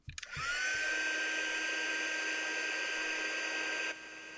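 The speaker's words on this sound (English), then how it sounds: "And then we're going to take that heat tool and heat that up." A handheld embossing heat tool blows hot air over white embossing powder on a stamped card heart, a loud steady whirring rush that starts abruptly, holds for about three and a half seconds, then drops away.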